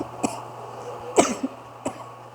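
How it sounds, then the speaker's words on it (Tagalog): Someone speaking from a church pulpit coughs three times, sharp close bursts spaced about a second apart with a throaty rasp, over a quiet room hum. "medyo inuubo po ako medyo uso po ang ubo at sipon ngayon"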